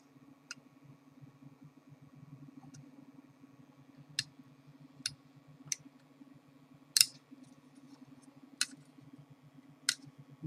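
A scalpel blade nicks plastic away from a 3D-printed part in sharp, isolated clicks and snips, about eight spaced cuts against a quiet steady hum.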